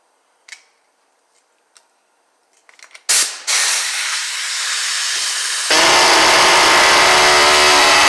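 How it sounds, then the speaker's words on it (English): An air compressor in a garage kicks on during a 1968 Mustang restoration. A few light knocks come first, then a sudden loud, steady hissing drone starts and grows louder partway through. "you're going to hear the air compressor kick on"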